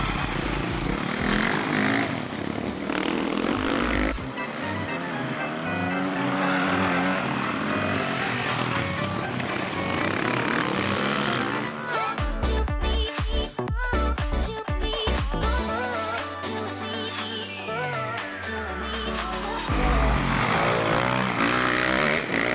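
A flat track motorcycle circles a cold, icy dirt oval, its engine rising and falling in pitch as it passes and revs, loud and continuous throughout, with no voices.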